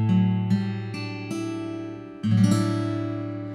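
Acoustic guitar strumming a chord from the fifth string down, played as part of a song's accompaniment, with several close, ringing strums that sustain and overlap in a steady rhythm.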